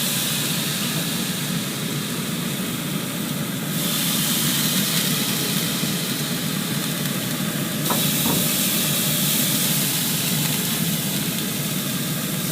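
Steaks sear on the hot grate of a Z Grills 6002B pellet smoker, giving a steady, loud broadband hiss that runs unbroken and alone throughout.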